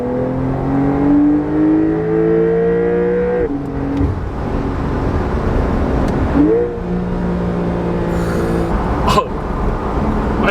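A Porsche 911 Targa 4 of the 992 generation revving hard toward redline, its loud engine note climbing in pitch, dropping back at gear changes, then rising again, heard close and continuous.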